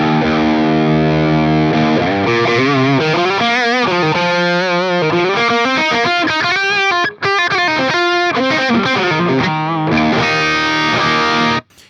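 An electric guitar played through the overdrive of a Synergy Syn20IR with OS module, gritty sustained notes and bends with a thick, saturated tone, loud and continuous.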